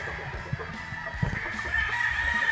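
White Kelso gamefowl on a game farm, scattered clucks and low calls from the chickens over a steady background hum, moderately near, no talk.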